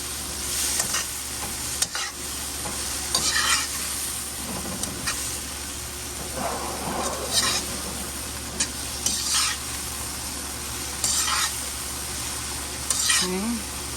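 Shrimp stir-fry in a new wok, with a constant sizzling hiss and intermittent scraping stirs over a low steady hum. Close and continuous throughout.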